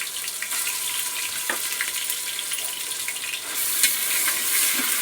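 Ginger garlic paste fries in hot oil in a pan for mutton biryani, a continuous close sizzle with a few stirring clinks and a slight swell toward the end, no talk.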